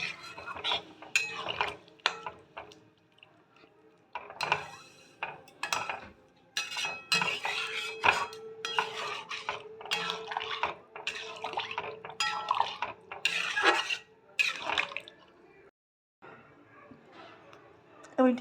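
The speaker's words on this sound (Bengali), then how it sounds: "এবার একটু আমি ঢেকে দেবো।" A cooking pot of cauliflower korma is handled and covered with a lid, giving a series of close metallic clinks and clatters with brief pauses, while a person talks.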